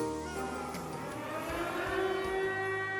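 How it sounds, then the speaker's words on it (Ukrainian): A civil defense air raid siren wails steadily, a sustained rising tone with harmonics that holds loud and unbroken throughout, with no voices. "Почувши сигнал повітряної тривоги, відразу спускайся в найближче укриття."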